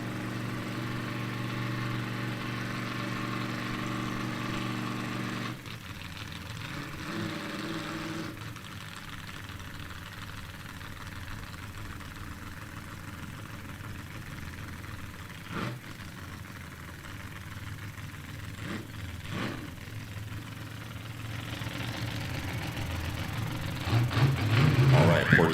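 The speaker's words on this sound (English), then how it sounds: "Poor Decisions in the water, idling up to the starting line." Sprint race boat engines idle on the water near the starting line, a steady low throb that shifts partway through and builds louder near the end, under a commentator's talk.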